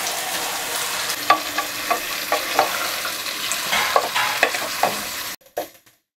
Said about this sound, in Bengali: মশলাটার সাথে ভুঁড়িটাকে খুব ভালোভাবে মিশিয়ে দিলাম।